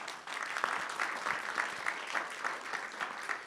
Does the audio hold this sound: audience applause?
yes